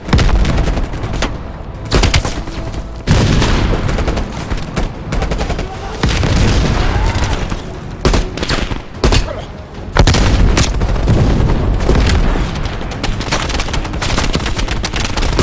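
Heavy continuous battlefield gunfire from AA guns with booming RPG blasts in Call of Duty Black Ops Cold War, loud and close, with rapid volleys and explosions layered throughout.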